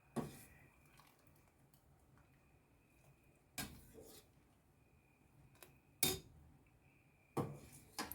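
Spoon clinks against a pan while lazy dumplings are stirred in butter: a few sharp, sparse knocks spaced seconds apart over a quiet kitchen background.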